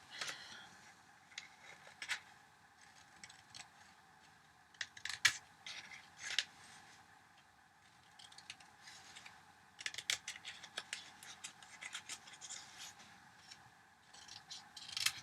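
Scissors snipping paper or card while making a chimney-shaped box, a series of sharp, irregular close cuts separated by quiet pauses, with no speech.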